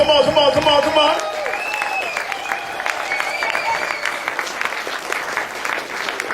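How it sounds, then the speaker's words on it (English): An audience bursts into steady, lively applause and clapping that fills the room, with a voice briefly heard at the start before the clapping carries on alone. "give him a round of applause"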